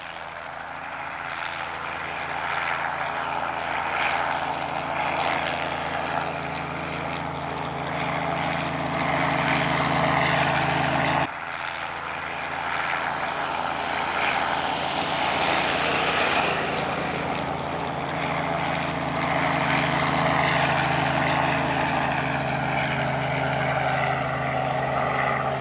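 Helicopter engines warm up on a farm in Pingo-d'Água, Minas Gerais, before takeoff, a loud steady droning whine with strong humming tones that rises in pitch midway, with no speech.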